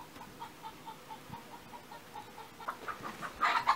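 A rooster among hens in a Russian farmyard gives soft repeated clucks at a steady rhythm, fairly faint and close, with a louder, brighter burst of fowl calls near the end.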